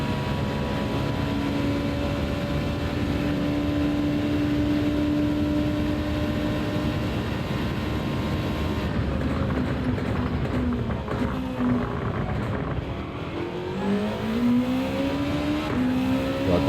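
Gran Turismo 7 race car, a Gr.2 machine lapping Fuji in the video game, with engine tones holding steady and then dipping and rising through downshifts and re-acceleration, loud and continuous with no talk.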